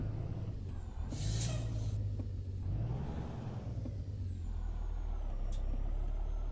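A truck in American Truck Simulator lets out a sharp hiss of its air brakes over a steady low engine rumble, with a second, shorter hiss following a few seconds later.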